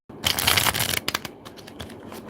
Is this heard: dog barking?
no